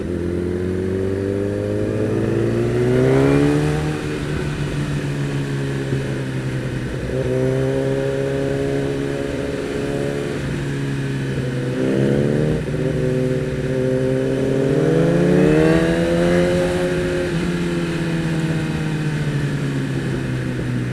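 A Kawasaki ZX10R sport bike on a test ride, its engine rising and falling through repeated revs and gear shifts, close and loud, with wind noise underneath and no talking.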